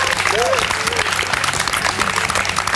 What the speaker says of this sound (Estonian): Itaka Maria, aplaus!